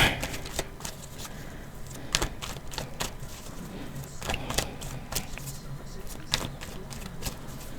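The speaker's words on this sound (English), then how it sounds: "let's shuffle these cards" Tarot cards are shuffled with repeated soft riffling and tapping bursts in an uneven rhythm, close by, while a voice speaks faintly at times.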